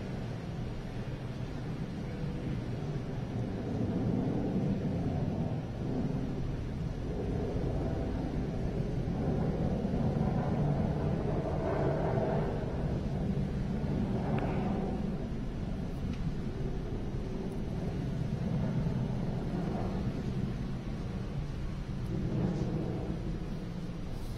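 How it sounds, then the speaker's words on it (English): A SpaceX Falcon 9 carrying 10 satellites climbs about a minute and a half into flight, past maximum dynamic pressure, its Merlin engines a continuous deep, distant rumble with no voices. "Merlin engines continue to perform nominally."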